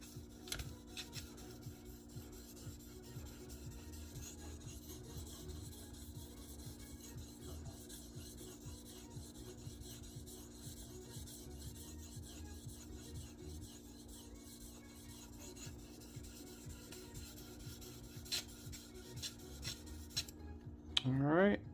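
A knife blade, a Case Sodbuster, is drawn along a sharpening stone on a TS Prof Kadet Pro, giving a continuous faint scraping rasp with a low background hum and a brief louder clatter at the end.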